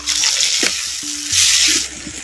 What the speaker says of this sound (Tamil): மூணு தக்காளி பழம் சேர்த்துக்கிறேன் சேர்த்த தக்காளி பழத்தை அப்படியே நல்லா கிண்டி விட்டுக்கும்